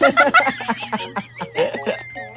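Chickens clucking and squawking close by in a rural Filipino home setting, a quick run of bird calls with harmonic chirps over a steady low hum.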